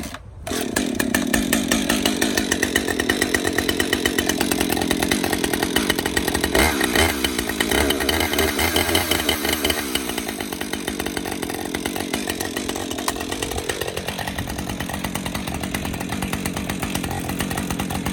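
A Husqvarna 550 XPG chainsaw fires after a sharp start and runs loudly and steadily close by, its engine note rising and falling with throttle blips.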